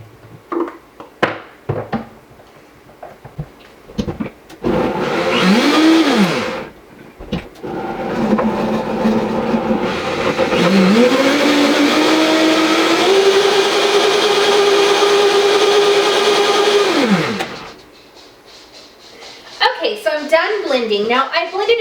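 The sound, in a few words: blender blending apples for oil-free dressing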